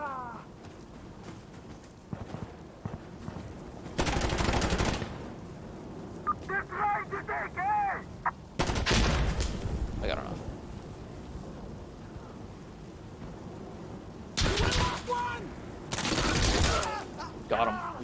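Rifle fire in an online shooter game, with several short bursts of shots coming in separate clusters while a player talks over the game sounds throughout.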